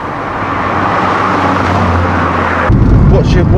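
Old VW Polo driving with its rear tyres scrubbing: a steady, close road-and-engine rumble from inside the car that swells into a heavier, louder low drone for the last second.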